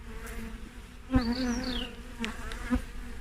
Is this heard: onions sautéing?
no